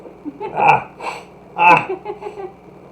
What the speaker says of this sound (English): I feel like I'm gonna sneeze.